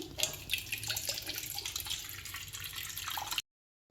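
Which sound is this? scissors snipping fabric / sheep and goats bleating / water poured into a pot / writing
water poured into a pot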